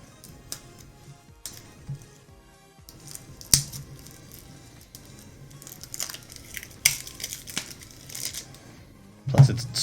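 Cards from a Horizon Zero Dawn board game deck are shuffled by hand, giving scattered, quiet papery riffles and crisp snaps close by, with a louder burst near the end.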